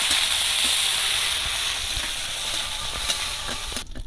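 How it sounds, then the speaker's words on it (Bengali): Steady, loud sizzling of prawns coated in salt and turmeric frying in hot oil in a wok, continuous broadband hiss with occasional soft clinks, cutting off abruptly near the end. "চিংড়ি মাছগুলো কিন্তু ভাজা হয়ে গেছে"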